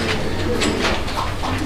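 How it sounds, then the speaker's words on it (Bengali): A pair of Lakha pigeons coo close by in soft, low, repeated murmurs, with faint background noise beneath. "আর কবুতর জগতের সবচাইতে সুন্দরী কবুতর দর্শক বন্ধুরা দেখতে পাচ্ছেন, লক্ষা কবুতর একটা জোড়া।"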